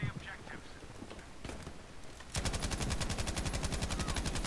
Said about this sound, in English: Let's get a lower fire rate gun, MG34, and hurry up.